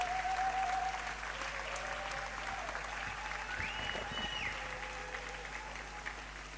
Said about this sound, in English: So please give a big applause again for all our logistic team members